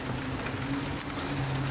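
Steady rain patters outside a workshop, a soft, even hiss of drops with a faint low hum underneath and one brief tap near the middle.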